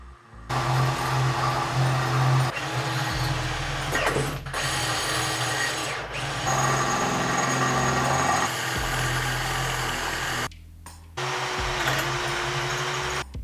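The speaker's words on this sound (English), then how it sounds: "I will have to drill out the stud." A power drill whines steadily in long bursts with short pauses between them, drilling out a broken exhaust stud on a high-mileage BMW close by.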